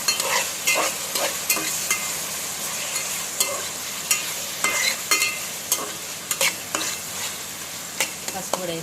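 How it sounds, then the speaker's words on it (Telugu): Onions frying in a pan for mutton curry with coriander, mint and turmeric, a steady close sizzle broken by frequent scraping stirs and clinks of a spoon against the pan. "ఇప్పుడు మంచిగా ఉల్లిపాయ వేగనివ్వండి."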